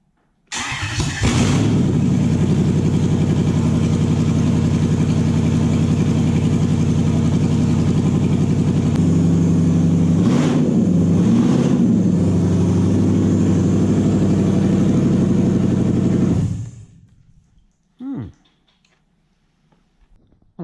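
A Toyota engine on a JDM ECU cranks and catches, then idles steadily with a low rumble for about fifteen seconds before cutting off, followed by a brief faint thump.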